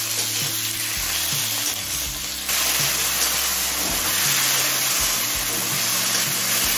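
Small-cut tomato pieces frying in a pan over medium heat, a continuous loud sizzle with occasional stirring scrapes, with sustained background music and no talk.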